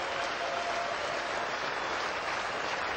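Cricket crowd at a 1992 Perth Test against Australia applauding Kapil Dev's 400th Test wicket, dense continuous clapping from a large distant stand, steady and sustained with no break.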